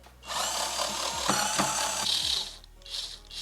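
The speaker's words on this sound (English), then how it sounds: "let's remove some of the screws" A power tool whirs in a long burst while removing screws from the side mirror of a fifth-generation Toyota RAV4, then stops and gives one shorter spin, close and fairly loud.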